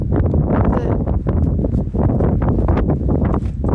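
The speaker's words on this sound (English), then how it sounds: "A bit windy up here." Loud, constant wind roaring and buffeting the microphone on a moorland hilltop at Darwen Tower, Lancashire, with gusty rustling and no pauses.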